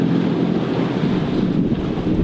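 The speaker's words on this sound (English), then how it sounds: "the wind's changed from the northeast to the northwest" Steady, loud wind roars across the microphone aboard a sailing boat at sea near the equator, with waves and surf washing underneath, continuous for the whole stretch with no talking.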